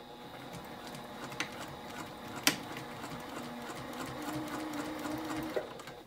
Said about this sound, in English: So keep stitching till you get to the next one.